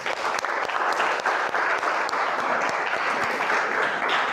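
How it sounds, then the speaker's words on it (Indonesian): Steady applause from an audience after a group presentation in a teacher-training classroom session, a dense continuous patter of many hands clapping at an even level throughout. "Kita kasih tepuk tangan."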